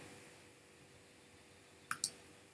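A computer mouse gives two quick, sharp clicks close together, faint and alone against quiet room hiss.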